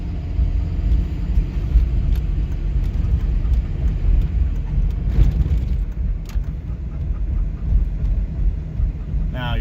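A diesel pickup fitted with a Banshee VGT controller accelerates while driving, heard from inside the cab as a loud, continuous low engine rumble and road drone, with no talking.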